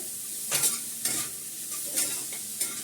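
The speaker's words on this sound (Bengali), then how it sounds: "সঙ্গে আমি পেঁয়াজটা দিলাম" Onion and chopped green chili frying in a pan on low gas, a steady soft sizzle broken by four or five scraping stirs at roughly even intervals, close and moderately loud with no talking.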